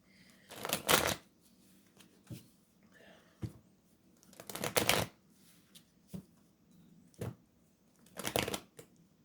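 Tarot cards are shuffled up close in several crisp riffling bursts, each lasting under a second, with lighter taps and card handling in between.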